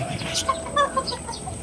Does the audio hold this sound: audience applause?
no